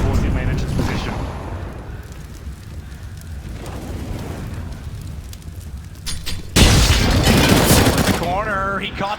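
In a CS:GO match, a thrown grenade goes off with a sudden loud burst and rumbling blast that follows a stretch of gunfire and game noise, with a caster talking excitedly throughout.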